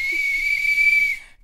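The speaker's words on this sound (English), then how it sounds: "I'm just taking my deep breaths directly into the whistle" A single steady whistle tone, blown with a long deep breath, sounds loud and close for over a second, holding one pitch before cutting off; no talking is heard.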